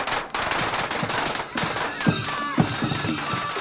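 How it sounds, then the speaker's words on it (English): Firecrackers crackle in dense rapid bursts marking the laying of a new village's last building stone on the Loess Plateau in Shanxi, China, with sharper louder pops standing out near the end of the continuous popping. "firecrackers"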